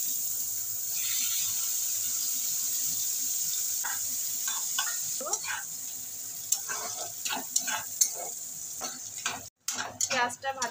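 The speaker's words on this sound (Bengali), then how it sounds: "পেঁয়াজটা ভাজা ভাজা করে নিয়েছি" Chopped onion sizzles steadily in hot oil tempered with nigella seeds, a constant high hiss with scattered spoon scrapes and stirring clicks building toward the end.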